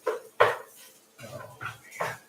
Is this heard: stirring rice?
yes